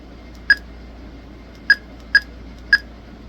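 Keypad beeps from a TID TD-H3 handheld ham radio, four short, crisp electronic tones, one alone and then three in quicker succession, close and clear against a quiet background.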